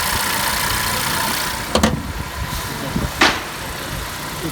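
A 2016 Honda CR-V salvage car idles nearby with a steady engine hum, broken by a few short bumps and a brief hiss-like burst partway through, with no talk.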